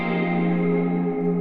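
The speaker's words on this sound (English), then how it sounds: "So what you're hearing right now is only reverb." An electric guitar played through only a reverb effect on a Fender Tone Master Pro sounds as a lush, sustained wash of ringing tones that holds steadily without any voices.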